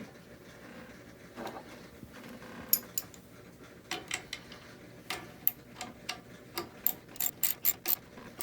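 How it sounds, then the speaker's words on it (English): Wrench loosening a bolt on a pedal adjustment, quiet scattered clicks that turn into a run of quick, evenly spaced ratcheting clicks toward the end, close and alone. "You just loosen this bolt right here and these two rods will slide."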